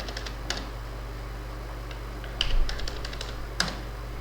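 Computer keyboard keys tapped while entering rates into an Excel sheet, a few scattered sharp clicks in small bursts over a constant low electrical hum, close and fairly clear with no talk.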